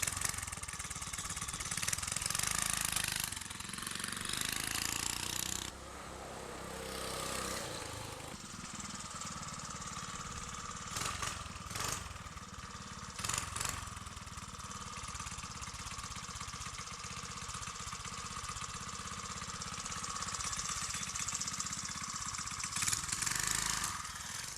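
A Briggs engine on a minibike, freshly fitted with a new EC carburetor and intake manifold, drones steadily through a street test ride, its note rising and dipping with throttle changes and passing close throughout, with no talking.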